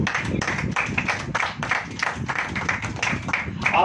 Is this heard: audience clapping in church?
yes